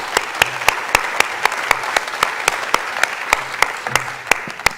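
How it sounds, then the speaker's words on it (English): At a conference closing ceremony, the audience applauds themselves in steady, loud, rhythmic unison clapping that holds a regular beat throughout. "So give yourselves a very big round of applause."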